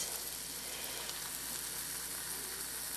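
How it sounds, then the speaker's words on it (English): Battered dandelion flowers frying in hot grease, a steady, close, moderately faint hiss and crackle with no talking. "And it goes in the grease."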